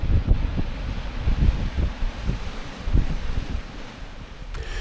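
Gusty wind on a Scottish coastal path buffeting the microphone in low rumbling bursts, with a soft rushing background like distant surf.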